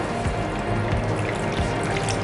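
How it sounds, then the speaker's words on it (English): A quarter cup of water pours into a rinsed cooking pan while kulfi is being made, a steady, soft splashing stream that runs unbroken and alone. "I'll add in 1/4 cup of water."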